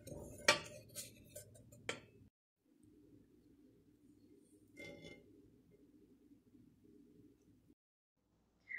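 Spices tipped from a hot pan into a bowl while making pumpkin pie: a couple of sharp metallic clinks and a scrape, followed by a soft, quiet rustle and sizzle-like hiss, then silence.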